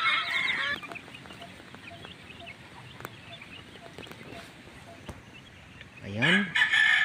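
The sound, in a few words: hen and chicks clucking while feeding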